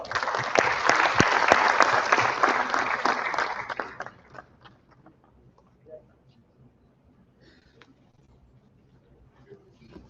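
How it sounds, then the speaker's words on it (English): A conference audience at an engineering and technology event gives a loud, dense round of applause for about four seconds, then it fades quickly to near silence with only faint room noises. "please have a big round of applause"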